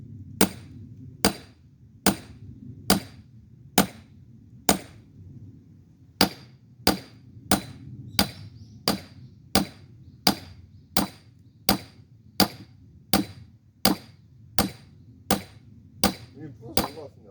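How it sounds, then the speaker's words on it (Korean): A hammer strikes steel wedges driven into a large rock to split it, delivering around twenty sharp, ringing metallic blows in a steady rhythm, each clear and close over faint background. "중간중간에 정을 몇 군데 박아놓고서 계속 돌아가면서 치는 게"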